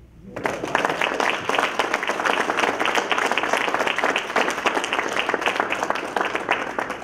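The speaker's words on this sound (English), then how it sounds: "So please clap for Gerald" Loud, close applause from a conference crowd starts abruptly and continues steadily for about seven seconds, with many hands clapping densely.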